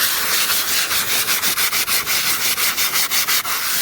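Rhythmic sanding strokes scrub back and forth across a car body being prepped for spray paint, steady and close with a regular pulse of about four strokes per second, loud and alone with no talk.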